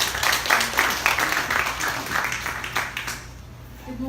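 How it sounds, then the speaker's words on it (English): An audience at a computer-delivered IELTS launch event applauds, a dense patter of clapping that runs for a few seconds and then thins out as the room quiets. "Let us give her a warm round of applause."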